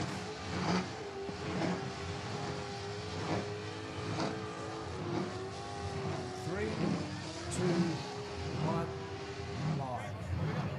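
Pro burnout car running on methanol at Red CentreNATS burnout finals, engine revving hard in repeated surging bursts, loud and close, over constant crowd and arena din with a commentator talking.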